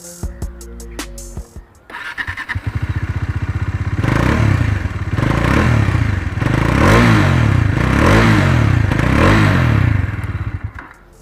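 A Bajaj Dominar 400 motorcycle engine settles into a lumpy idle, then revs repeatedly in four or five swelling bursts, loud and close.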